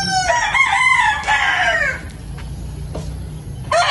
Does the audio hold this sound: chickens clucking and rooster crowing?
yes